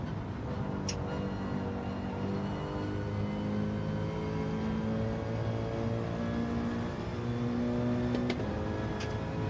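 Chevrolet Camaro race car engine in a racing video game, a steady loud drone that rises and falls in pitch as it revs through the gears, continuous for the whole stretch.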